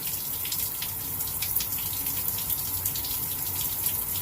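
Cool tap water runs steadily into a basin for rinsing after a shave, a continuous close hiss and splash with no speech over it.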